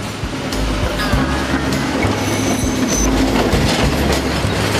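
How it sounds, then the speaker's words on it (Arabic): A train rolls past on the railway near Jaafour station, a loud, sustained rumble with rhythmic clickety-clack of wheels on rail joints and a thin metallic wheel squeal rising partway through. "كما لا تزال القطارات تجوب السكة ذهابا وإيابا لنقل البضائع الثقيلة ونقل المسافرين."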